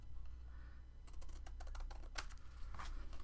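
Scissors snip decorative paper gift tag pieces up close. A steady low hum sits underneath, and a quick run of crisp, clicky cuts comes after a second of near quiet. No one speaks.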